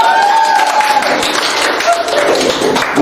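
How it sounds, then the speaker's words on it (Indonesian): A school class applauds a group of students after their presentation in a biology lesson on ecosystems, dense close clapping throughout with voices mixed in. "Coba diberi tepuk tangan untuk kalian semua"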